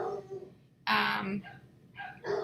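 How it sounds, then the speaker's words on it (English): Puppies bark and yip at each other from another room, giving several short sharp barks and whimpers in quick bursts, moderately loud, with a voice talking alongside. "The pups are barking at each other in the other room."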